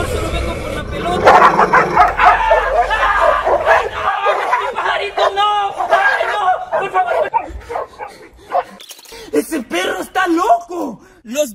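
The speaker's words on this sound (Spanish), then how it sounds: "¡Ay, qué bonito el perrito!" A small dog barks in quick, high yips and bow-wows, loud and close, with people talking over and between the barks.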